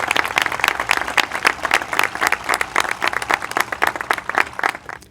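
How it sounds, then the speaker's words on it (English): A school audience gives steady, dense applause for award recipients at a middle school graduation ceremony, clapping loud and continuous throughout before tapering slightly at the end. "can we get another round of applause for all of our award recipients?"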